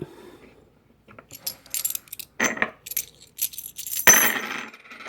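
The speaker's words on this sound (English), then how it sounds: "you hear that little plink, and you can even still hear it with the other coins" Japanese koban gold coins clinking together, a series of sharp metallic plinks and jingles in irregular bursts, close and clear against near silence.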